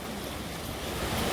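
Waves and surf wash steadily at Oceanside Beach, a loud continuous roar mixed with wind buffeting the microphone, with no voices.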